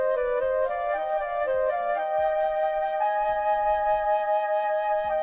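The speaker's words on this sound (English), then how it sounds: "So what I did was I played the same theme, but on my Yamaha keyboard" Flute-like melody played on a Yamaha MOXF8 keyboard in a 1970s soul style, sustained tones moving between a few pitches over a soft, steady rhythmic backing, heard alone without talk.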